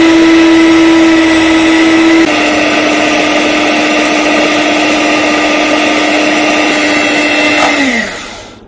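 A countertop blender whirs steadily and loudly, mixing an okra hair mask mixture, with a constant motor drone that shifts pitch slightly partway through, then winds down and stops at the end.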